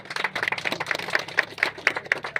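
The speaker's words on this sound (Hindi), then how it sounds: "हम बोलेंगे जो तालियां बजाओ बार जोर से।" Brisk, loud rhythmic clapping from an audience at a coaching centre inauguration in India, steady claps in quick succession, close and without talk.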